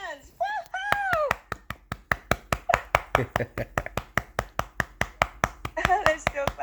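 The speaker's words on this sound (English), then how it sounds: "They're still clapping." A graduation audience applauds with steady, rhythmic clapping that carries on for several seconds, while a voice cheers and someone speaks over it.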